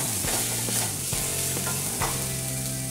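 Ground spices (garam masala, red chili powder, cumin and turmeric) stir-roasted in a pan, giving a close, steady sizzle broken by several scraping strokes of a spoon against the pan.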